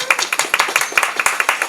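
Applause at a Royal Society of St. George honorary membership ceremony, brisk rhythmic hand clapping from a small group, loud and close, continuing evenly for under two seconds.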